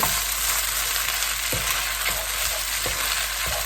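Fresh wide rice noodles stir-fried with egg and soy sauce hiss loudly in a pan, with a spatula scraping and clacking at irregular moments over the constant sizzle.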